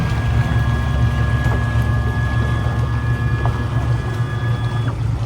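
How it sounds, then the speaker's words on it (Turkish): Steady low drone of a boat's outboard motor running at a diving spot off a deserted island near Bodrum, continuous and fairly loud, with wind and water noise mixed in and no talk. "Evet, motor çalışır durumda."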